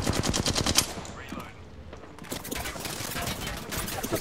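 Gunfire in the Apex Legends video game. Rapid bursts of shots crack out at the start, a brief lull follows, then more repeated firing comes back, loud and close.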